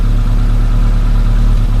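A Suzuki Samurai fitted with an HHO system idles steadily and close by, its low engine rumble running evenly and loud throughout with no voices over it.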